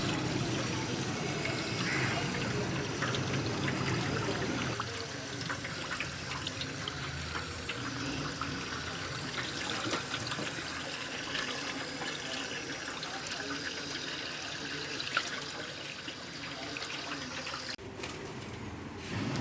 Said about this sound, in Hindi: अब हम इसमें पानी डालेंगे। इसे पानी के साथ अच्छी तरह से वॉश करेंगे ताकि ये अच्छी तरह से क्लीन हो जाए।